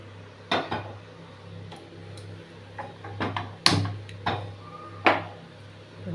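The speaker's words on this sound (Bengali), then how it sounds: "আমরা প্রথম কড়াটা বসাচ্ছি" A metal kadai is set on a stove in a home kitchen, giving a few sharp metallic clanks and scattered knocks with gaps between them, close and moderately loud, with no speech.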